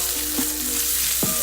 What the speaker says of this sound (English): And we're just going to stir them up. You hear the sizzle